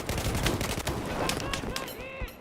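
Gunfire in the Battlefield 4 video game, a dense, loud run of shots and bursts crowding together with game noise, while voices talk over the top.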